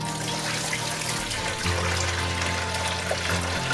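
Boiling hot water pours into a container for homemade dish soap, a soft steady splashing gush, faint and close.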